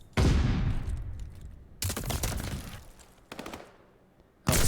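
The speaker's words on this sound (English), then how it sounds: "Oh, Seno with the sniper." Sniper rifle fire in a competitive video game match: four heavy, loud shots spaced a second or so apart, each leaving a long rumbling decay.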